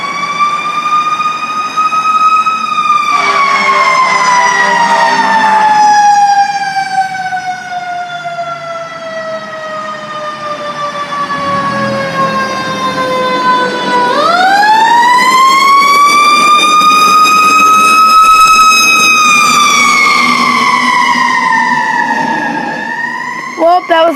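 Yorkville Hose Engine 62 fire truck responds to an automatic fire alarm at a hospital, its loud siren wailing in long rising and falling sweeps as it passes close by, with a heavy engine rumble underneath.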